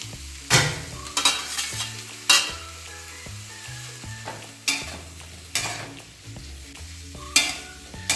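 White kabuli chickpeas fry in a pan, stirred with a run of sharp scrapes and clatters over a low, steady sizzle, close up, with soft background music and no speech.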